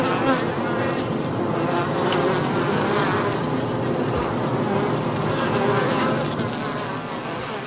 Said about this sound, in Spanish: Las componentes de la avanzadilla recorren el enjambre haciendo vibrar sus alas.